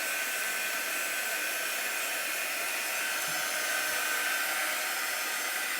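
A hair dryer blowing on a sweatshirt to dry Chalk Couture ink, a steady close, loud whooshing roar that holds unbroken throughout with no talking.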